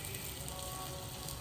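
Green chillies frying in a pan give off a steady, close sizzle and crackle that holds evenly throughout, with no talking.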